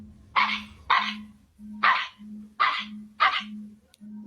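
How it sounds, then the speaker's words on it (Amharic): A dog barks at a cat, giving five loud, sharp barks at a steady pace. A low, even hum runs through the pauses between them. "የዛችኛዋን ድመት ላይ ይጮሁባታል ውሻው ማለት ነው"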